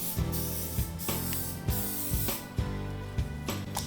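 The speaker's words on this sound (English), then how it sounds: "now I'm gonna spray my griddle with a little bit of nonstick butter spray." A hissing aerosol nonstick butter spray onto a griddle, with music playing underneath, plus a few faint clicks.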